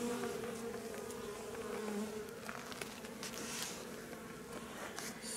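Honeybees buzz around beehives during a hive visit, a steady, faint droning hum of many insects with small shifting tones close by.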